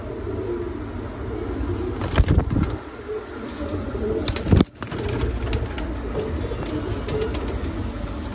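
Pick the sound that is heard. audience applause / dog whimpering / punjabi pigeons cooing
punjabi pigeons cooing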